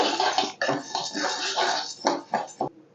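Water is poured into a pot of fried lentils for tomato dal, a steady, dense splashing rush that runs for about three seconds with a few brief surges near the end.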